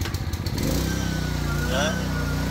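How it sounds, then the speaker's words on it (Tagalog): A generator for a PK160 welding machine starts up: a few quick sputtering pulses settle into a steady, loud, close-up engine hum, with a person speaking over it. "Start na natin yung generator."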